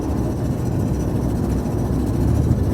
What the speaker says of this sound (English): That is the sound of a broken catalytic converter.